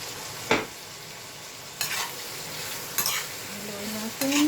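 A pan of coconut-milk Bicol Express fries with a continuous close sizzle, broken by a few sharp scrapes and clacks as a spoon stirs it.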